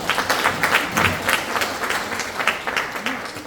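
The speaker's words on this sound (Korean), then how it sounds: "국민행복원에 이렇게 잘 이끌어주신 우리 이도겸 회장님께 큰 박수 한번 부탁드리겠습니다." Audience applauding chairman Lee Do-gyeom at a second-anniversary ceremony in a small National Assembly meeting room, a moderate round of clapping with individual claps audible in a loose, uneven rhythm, fairly close and alone.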